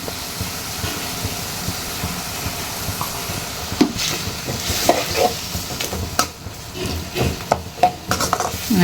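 Masala with turmeric and chili powder sizzles steadily in a pan while stirred and scraped, with occasional louder clinks and scrapes of a utensil against metal.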